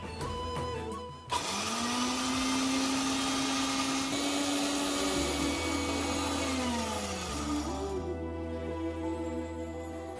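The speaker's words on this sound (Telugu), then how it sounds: "ఈ రెండింటిని ముందు మిక్సీ వేసుకుని పౌడర్ లాగా ముందు చేశాక" A mixer grinder whirring loudly as it grinds ingredients into powder, a sustained motor whine that starts abruptly, shifts pitch a few times and winds down near the end, close and without talk.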